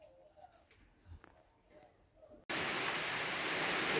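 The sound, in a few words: heavy rain falling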